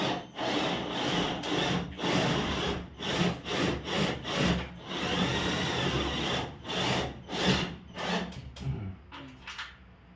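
Sanding along the inside of a newly built wooden room partition, a steady rasping scrub in repeated strokes with short breaks, fairly close and continuous, with no talking.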